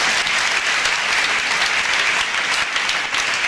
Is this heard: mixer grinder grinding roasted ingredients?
no